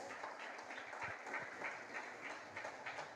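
A church congregation applauds steadily, a dense even patter of many hands clapping throughout, moderately loud with no voices on top.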